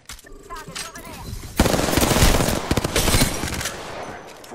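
Video game gunfire erupts as loud, rapid automatic bursts close by, a dense rattling volley that fills most of the moment after a brief quieter lead-in.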